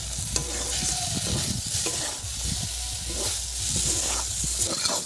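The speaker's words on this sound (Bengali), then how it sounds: "কাঁকরোল ভাজা হয়ে গেছে" Spiny gourd pieces fry in oil with chili powder, a continuous close sizzle with frequent stirring scrapes and occasional clinks, and no talk.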